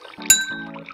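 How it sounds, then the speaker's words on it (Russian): A drinking glass partly filled with water, struck once, giving a bright sharp ding and a clear ringing musical note that fades quickly over a quiet background. "А в этот стакан наливаем воду до тех пор, пока не услышим ноту си."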